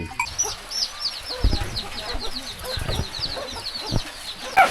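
Chickens clucking in a rural Lao village in the morning, several birds cackling close by with scattered knocks and a voice speaking in the background.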